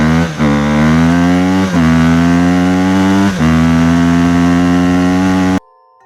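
A motorcycle engine revs loudly and steadily, with three brief dips as the throttle is blipped, then cuts off abruptly near the end.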